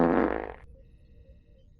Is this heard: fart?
yes